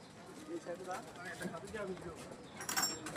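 Red-eyed Jalali pigeons coo softly in a loft, low burbling calls mixed with wing and foot movement, heard faintly under a nearby person talking.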